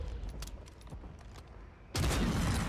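Gunfire in Call of Duty Warzone on Rebirth Island: scattered faint shots for about two seconds, then a loud, dense burst of firing that fills the rest of the moment without talk.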